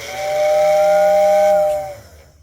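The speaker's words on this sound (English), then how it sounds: "So that's it for the whistle." A Marx toy train steam whistle unit sounds one loud, sustained hissing whistle tone lasting about a second and a half, then fades into brief hiss and silence; no voices.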